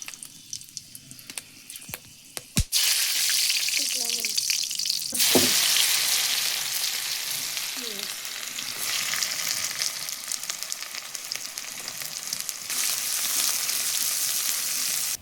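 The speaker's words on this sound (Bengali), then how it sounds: "কড়াইটা গরম হয়ে গেছে, তেল দিয়ে দিচ্ছি, গোলমরিচ লং দিয়ে দিচ্ছি" Black pepper and cloves dropped into hot oil in a wok, a loud, continuous sizzle that bursts in after a few clicks and knocks, then keeps frying steadily with light stirring, no talk.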